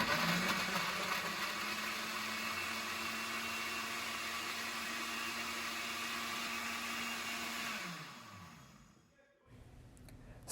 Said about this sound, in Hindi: उसके बाद इसको खूब अच्छी तरह से ब्लेंड करेंगे।